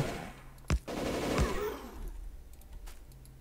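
Automated gun turrets in the factory-building game Factorio fire a couple of sharp, loud bursts close together, then trail off into fainter, scattered cracks over a low background hum.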